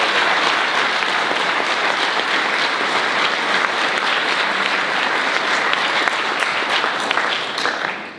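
Sustained audience applause fills a school speech day senior awards ceremony, a dense steady clapping from a large crowd that holds for the whole stretch and tapers slightly at the end.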